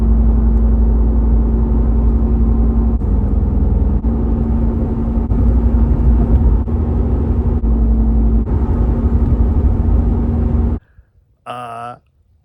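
Interior of a vehicle on the road during a drive, with a steady low engine rumble and road noise running continuously, then cutting off abruptly near the end before a brief separate burst of sound.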